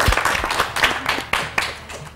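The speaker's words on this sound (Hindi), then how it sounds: "खैर ऑफिस से तालियां।" Office staff applauding at a television studio, a short burst of scattered, uneven hand claps at close range, loose and irregular rather than a full ovation.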